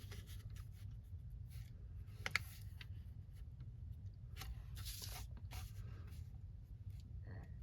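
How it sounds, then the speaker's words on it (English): A pencil draws a light line along a ruler on grid paper for a Christmas postage stamp card, a faint scratchy stroke over a steady low room hum, with no talking. "I just line my ruler up with my grid paper and I draw a light line"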